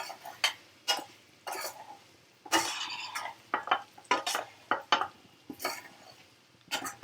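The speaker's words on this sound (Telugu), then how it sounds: "మంచిగా కలిపేసుకోవాలి." Fried okra with dried red chilies being stirred in a pan, a spoon scraping and clattering against the metal in quick, irregular strokes over a faint sizzle, close and with no voices.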